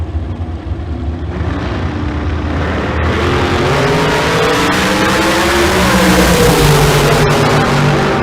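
Drag racing cars launching down a strip, a loud engine roar that builds and climbs in pitch as the cars accelerate away, with no talking.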